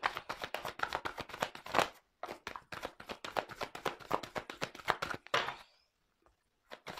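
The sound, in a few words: shuffling tarot cards for a reading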